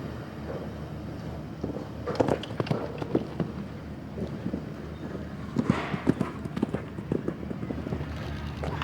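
A horse canters in the individual show jumping final at the FEI Asian Championships 2019, its hoofbeats thudding in an uneven rhythm on the arena surface at moderate distance, with faint crowd and ambient noise around.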